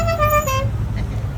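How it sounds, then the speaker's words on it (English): An old Valiant at a classic car cavalcade sounds a La Cucaracha musical horn, a quick run of bright tuned notes played once, then fading into road and engine rumble. "Hey, he's got the La Cucaracha horns on the old Val."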